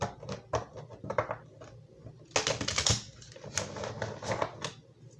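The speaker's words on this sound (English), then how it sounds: "3 more shuffles here" A deck of tarot cards is shuffled by hand in a quiet room, giving rapid close riffling bursts and soft flicks in irregular clusters with brief pauses between them.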